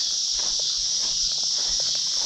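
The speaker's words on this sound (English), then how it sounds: "you can hear all the cicadas and stuff" Cicadas along a creek drone in a loud, continuous high-pitched buzz that fills the background, with faint footsteps or rustling crunching softly beneath it.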